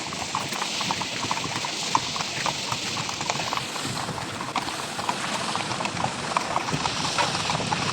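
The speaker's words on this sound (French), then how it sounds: "Des chevaux qui traversent le barrage." Horses cross a dam on a hiking trail, their hooves clip-clopping in a steady, busy rhythm close by over a constant wash of flowing water, with no talking.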